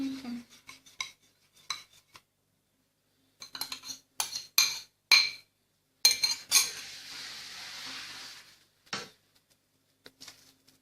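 A spoon stirring buckwheat cutlet mixture with eggs in a bowl, bursts of clinking and scraping against the dish in uneven strokes, close and fairly clear with quiet pauses between.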